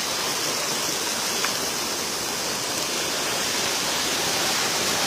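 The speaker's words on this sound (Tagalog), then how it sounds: "Ang sarap po pakinggan talaga ng tubig." Tungtong River Falls roaring steadily at close range, a dense, unbroken wash of rushing water filling the whole stretch with no voices over it.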